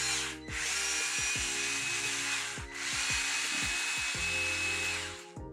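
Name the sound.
power screwdriver unscrewing a screw on Traxxas TRX4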